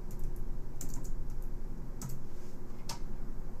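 Someone types on a computer keyboard, a few sparse, crisp keystroke clicks heard close over a steady low room hum.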